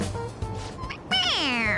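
A toy cat meows when its head is pressed in a PS4 game, giving one clear, rising-then-falling electronic meow after brief background game sound.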